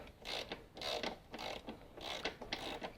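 A ratchet with a short extension on a 1/2 inch socket tightens a bolt over a mower pulley on a Toro Timemaster, giving repeated rhythmic clicking strokes in short bursts, close and moderately loud, with no talking.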